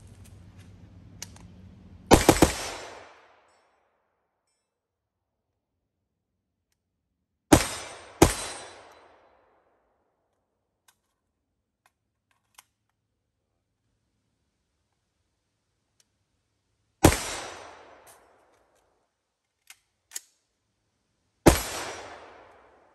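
Shots from an HB Industries Stribog short-stroke firearm with a CMC trigger ring out outdoors near a swamp, loud sharp cracks with decaying tails, some in quick pairs, spaced across the stretch with quiet gaps between.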